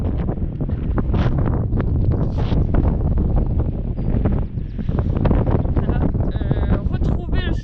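Strong wind on the Belle-Île coast buffets the microphone in a constant loud rumble with gusty surges, while people talk underneath.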